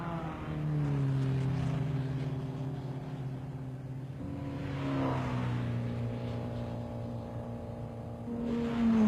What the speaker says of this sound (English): The Formula 2 Porsches keep circulating.